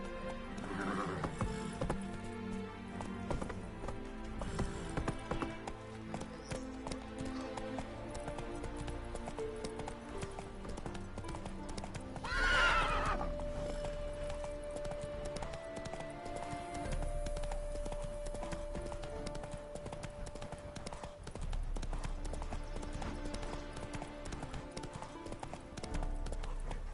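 A horse gallops with rapid, continuous hoofbeats and lets out a loud whinny midway, set in The Witcher Wild Hunt video game, against a background of game music and ambience.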